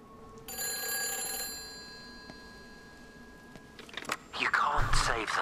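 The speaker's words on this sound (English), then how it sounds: "Hey, phone." An old telephone ringing inside the video game Everybody's Gone to the Rapture, a steady bell tone that fades out, then a voice starts up at the end.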